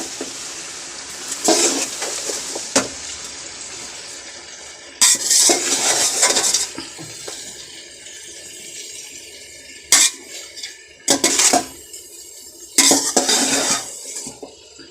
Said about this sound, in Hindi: ये अच्छी तरह हमने पालक को और मेथी को मिक्स कर लिया है।